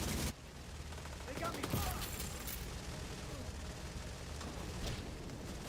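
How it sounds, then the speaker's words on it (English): Rapid automatic gunfire in the shooter video game The Division 2, a sustained crackling burst with sharp shot transients early on, fairly steady and dense. "I'm shooting so fast that it's cutting my audio out"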